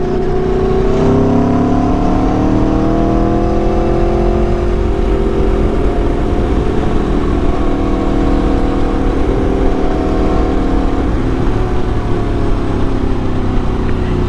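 A motorcycle engine revs hard under sharp throttle, its rising and falling harmonic whine loud and close, holding steady with the roar throughout and no talk.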